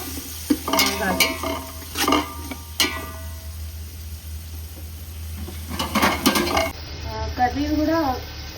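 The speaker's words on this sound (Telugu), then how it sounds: "కట్ చేసి పెట్టుకున్న క్యారెట్, లైట్గా కొత్తిమీర, ఇవి కూడా బాగా వేగాలి" Chopped carrot and coriander frying in a pan, a soft sizzle broken by bursts of spoon stirring and scraping against the metal, with a person talking in between.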